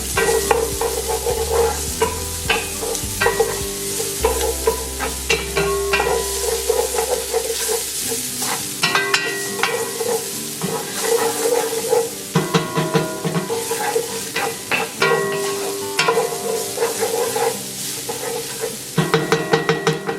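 Garlic sizzles steadily in avocado oil in a pan over medium-low heat, a continuous loud frying hiss broken by scraping stirs, with no voices.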